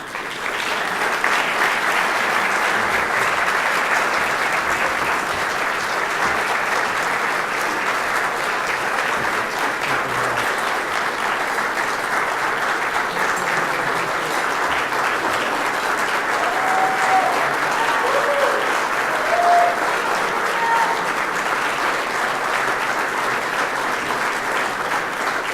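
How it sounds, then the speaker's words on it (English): Sustained audience applause fills a dinner event hall, a dense steady clapping from a large crowd lasting the full span without pause. "please join me in giving a strong round of applause to the government of Hungary and Secretary Tristan Azbej."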